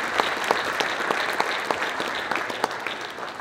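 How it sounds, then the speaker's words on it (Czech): An audience claps steadily at a regional sports awards ceremony, a dense crowd applause with sharp individual claps standing out. "takže ještě jednou velký potlesk pro Terezu Čechovou."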